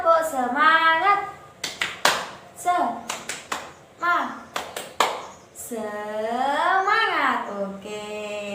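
Schoolchildren in a classroom chant a spirit clap together in a sing-song rhythm, broken by several sharp, loud hand claps in quick patterned bursts.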